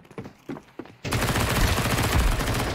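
An MP9 submachine gun in Counter-Strike 2 on the Overpass map: a few scattered shots, then a loud, continuous rapid burst that lasts nearly two seconds.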